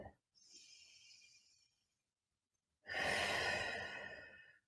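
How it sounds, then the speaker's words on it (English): A deep, slow breath during a Pilates floor stretch: a soft, airy inhale, a pause, then a long, fuller exhale sighed out close by, with no talking. "One more full breath."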